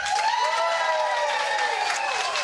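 A large audience applauds continuously, with dense clapping and some cheering voices mixed in throughout.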